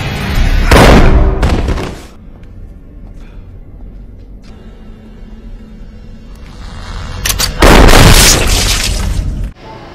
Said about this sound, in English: he hits tripwire, and it causes these shotguns to shoot him from up above, down on him